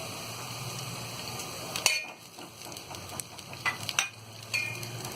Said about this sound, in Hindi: अब हम इसमें ये हरी प्याज डाल देंगे।